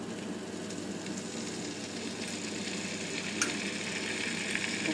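Minced garlic sizzles in heating oil in a pan, a steady soft crackling hiss that holds even and continuous, with a few brighter pops near the end.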